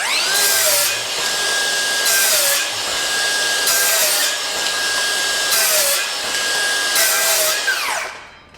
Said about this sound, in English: So now we're gonna do the same cuts with the DeWalt again.